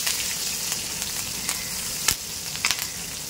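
Green chillies and curry leaves sizzle steadily in hot oil with cumin in a pan, a dense continuous frying hiss broken by a few sharp crackles and pops.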